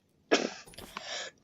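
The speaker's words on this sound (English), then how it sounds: "God, I'm coughing." A close, single harsh cough bursts out, followed by a short raspy breath and throat sounds that fade within about a second.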